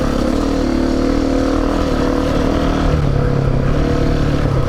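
A KTM 701 motorcycle ridden on desert sand, its engine a loud, continuous droning hum that rises and falls in pitch as the rider shifts speed, close to the microphone throughout.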